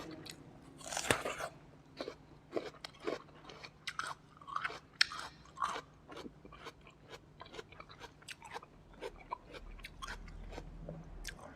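Crisp, crunchy snow lotus being bitten and chewed up close, a steady run of sharp crunches with no talking.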